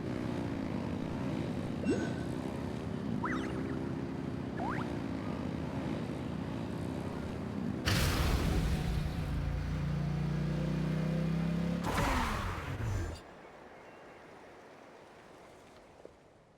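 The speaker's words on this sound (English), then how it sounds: "Rev the engines!" Engines revving in the video game Genshin Impact, a droning mechanical hum that surges into two loud, roaring bursts before dropping off sharply, with no talk over it.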